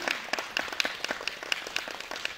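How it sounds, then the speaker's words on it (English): An audience claps together in a brisk, uneven patter of distinct hand claps, moderately loud, with no voices over it. "Round of applause and welcome up to Chantelle."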